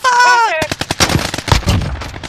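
Rapid automatic gunfire from a KRIG 6 rifle in a video game, a dense burst of loud shots after a short tonal game sound.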